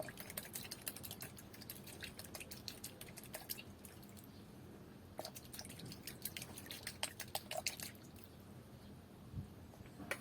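Thick soap and garlic liquid rinsed and poured into a garden sprayer, heard as faint close drips and small splashy clicks in uneven clusters.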